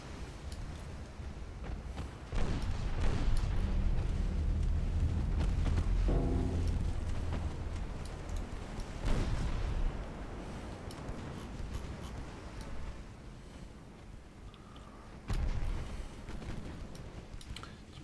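Naval battle in a warship strategy game, with deep booming gun salvos and shell hits rumbling in heavy bursts, a loud sustained barrage early on fading to scattered distant thuds, then another heavy blast near the end.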